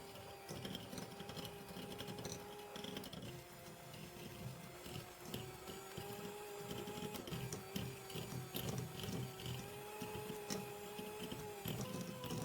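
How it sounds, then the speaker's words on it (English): An electric hand or stand mixer whirs steadily as it beats butter and sugar into a creamy cake batter, with a constant mechanical hum and faint scraping, loud and close with no talking. "Now use an electric hand or stand mixer to beat this until it's nice and creamy."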